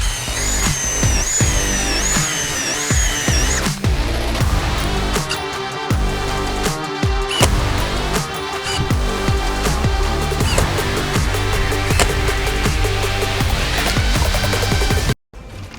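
A cordless drill and an impact driver run fasteners into wood, with loud whirring bursts and rapid hammering rattles in quick repeated runs, ending in a brief drop-out.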